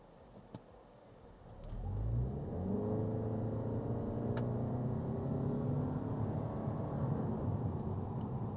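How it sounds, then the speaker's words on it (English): A 2025 Toyota Camry XSE pulls away from a stop, its engine and drivetrain rising into a steady, moderate hum after a brief quiet start, heard from inside the cabin. "So let's do like a slight acceleration from a stop."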